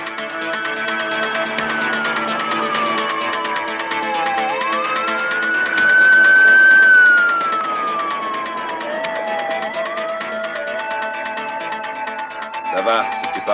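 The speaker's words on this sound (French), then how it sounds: "T'entends pas des sirènes de police?" Police sirens passing on a road, long rising and falling wails that swell louder as a vehicle nears and then fade, over a steady engine and traffic bed.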